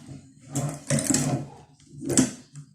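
A Melva sewing machine runs in two short stitching bursts, each about half a second long, with a brief pause between them. The sound is close and fairly quiet.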